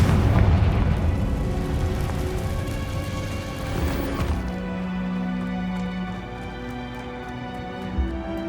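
A Confringo fire spell cast in the Hogwarts Legacy video game, a loud booming blast that rumbles and decays over several seconds, with falling debris clattering and a lower tonal game score underneath.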